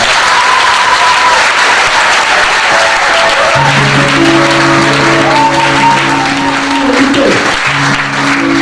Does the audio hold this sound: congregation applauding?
yes